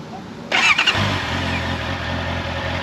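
A 2025 Honda CBR650R motorcycle with E-Clutch starts up close by: a short starter whir and catch, then the engine settles into a steady mid-pitched idle, loud and alone.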